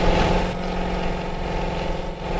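A Hino 500 dump truck loaded with sand climbs an off-road hill in Euro Truck Simulator 2, its diesel engine a steady, loud, labouring drone with a constant low throb and no talk.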